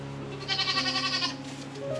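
Goats in a barn stall bleat in a short, wavering cry, close and clear, rising mid-way and then fading, with no talk over it.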